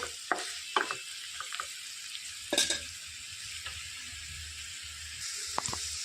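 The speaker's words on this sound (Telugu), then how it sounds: "మొత్తం వేయించేసుకొని ఒక రెండు సెకండ్లు ఈ తాలింపు అనేది మంచిగా వేయించుకోవాలి" Steady hissing sizzle of spices frying in hot oil, with a few spoon scrapes and clicks against the pan.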